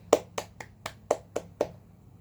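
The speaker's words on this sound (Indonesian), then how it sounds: "tepuk tangan semuanya" Students in a classroom clapping in unison, six crisp, evenly spaced claps in a quick rhythm, close and clear over a quiet room.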